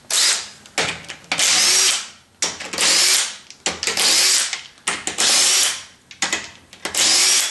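Power tool spinning off the wheel fasteners on a jacked-up Ford Explorer during upper ball joint replacement, six or seven loud close-up bursts of whirring drilling in a regular stop-start rhythm.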